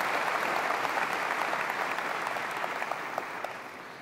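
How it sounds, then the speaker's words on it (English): A large conference crowd of thousands gives sustained applause, a dense wash of clapping heard from a distance that holds steady and then slowly tapers, with no voices over it. "You deserve an applause"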